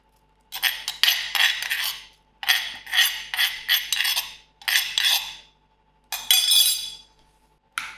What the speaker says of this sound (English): I will give this mango a good mix up.